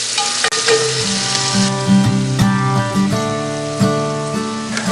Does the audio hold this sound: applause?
no